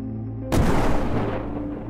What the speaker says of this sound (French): la fin de la vidéo se finit avec le joueur qui explose toute la maison